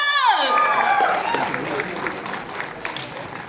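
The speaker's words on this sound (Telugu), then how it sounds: "గట్టిగా ఒక్కసారి క్లాప్స్" Audience applause at a Telugu film teaser launch event, a dense burst of clapping and cheering that gradually tapers, with a voice speaking over the start.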